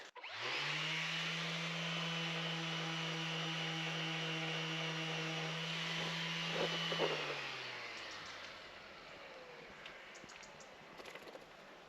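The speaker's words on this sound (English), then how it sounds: "it's not really working with the orbital sander on the stone" Orbital sander grinding on stone, a loud steady whine that winds down partway through, leaving quieter scraping and handling noise afterward.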